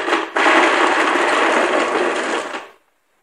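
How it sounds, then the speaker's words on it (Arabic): A kitchen blender grinds lemon juice loudly and steadily for a few seconds after a brief start-up stutter, then spins down to silence. "صوت الخلاط"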